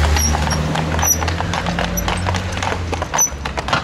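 Stallions' hooves clip-clop at Negrești-Oaș in Satu Mare, a brisk, irregular run of sharp hoof strikes on a hard surface with a low background murmur.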